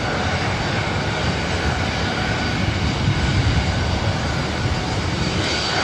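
Steady, loud roar of a 16-year-old Boeing 737-700 jet at LAX, a broad continuous rumble and hiss holding level for several seconds with no talk.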